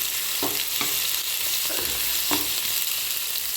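Tempering ingredients fry in hot oil in a pan for a Tamil-style fish gravy, giving a steady, close sizzle broken by a few soft stirring knocks, with no talking.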